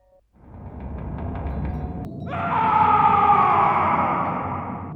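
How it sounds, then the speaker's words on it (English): In the Call of Duty zombies map Kino der Toten, a sustained, anguished scream rises over a low ominous drone near the Speed Cola room, loud and drawn out for several seconds after a brief sharp cut. "we can hear a disturbing, debilitating scream."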